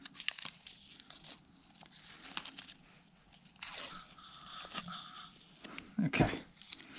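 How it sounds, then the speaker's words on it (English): Masking tape being torn and peeled off a ground-down engine flywheel part in a garage, a close crinkling, ripping sound in several bursts with a louder final tear. "Take this tape off."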